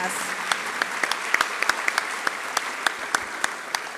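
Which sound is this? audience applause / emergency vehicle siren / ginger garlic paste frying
audience applause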